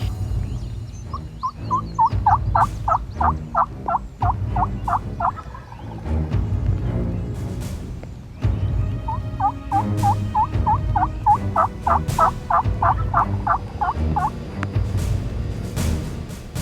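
Wild turkey gobbling during a hunt with a thunderstorm front moving in: two bursts of rapid, rattling gobbles, each a string of quick notes lasting several seconds, ringing out fairly near over steady low rumbling background.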